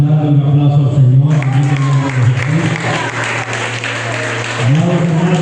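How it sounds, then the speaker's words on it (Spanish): A church congregation applauds, a loud, continuous burst of clapping over sustained tones of voice or music underneath. "Alguien puede darle un aplauso al Señor."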